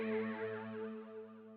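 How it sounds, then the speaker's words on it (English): A sustained synth bell pad from the Xenology plugin rings out as one held chord, bright and shimmering, slowly fading over under two seconds with no voice present. "In this, I got a synth bell pad."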